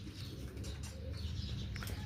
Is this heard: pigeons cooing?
yes